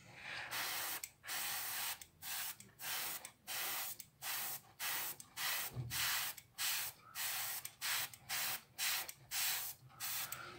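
An airbrush sprays paint onto parts of a Mitsubishi Zero scale model in short repeated hissing bursts with brief pauses between them, close and steady, with no talking.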